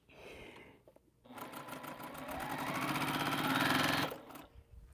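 A sewing machine stitches quilt rows in one fast run of rapid, close stitching that builds in speed and then stops abruptly, with quiet moments before and after.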